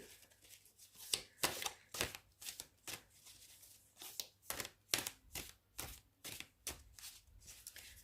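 A ritual card deck being shuffled and cut by hand, a run of about a dozen crisp riffling bursts in an uneven rhythm, close but soft, with no talking.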